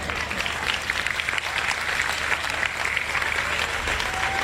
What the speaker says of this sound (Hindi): आप ताली बजाते हो